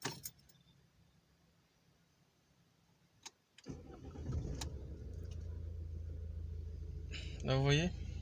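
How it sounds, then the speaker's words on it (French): A 2.0 JTDM/CDTI diesel car engine (Opel, Alfa Romeo, Lancia, Fiat), suspected of an intake pressure sensor fault, is started: keys jingle faintly, then the engine catches and settles into a steady idle drone. A brief rising whine follows near the end. "je vais démarrer la voiture"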